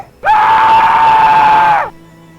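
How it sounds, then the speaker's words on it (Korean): A single sustained scream in a Korean horror radio story, loud and piercing, holding steady for about a second and a half before cutting off abruptly. "자기도 모르게 비명이 튀어나오고"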